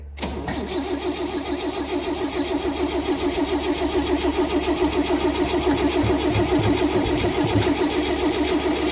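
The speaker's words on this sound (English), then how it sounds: "give her a pump and turn the key. Let's see what happens. She's gonna be cold, so choke it." A cold 1970 International Scout with a 232 straight-six and freshly rebuilt carburetor cranks on the choke, the starter churning in a steady rhythmic whir close by for several seconds without the engine catching.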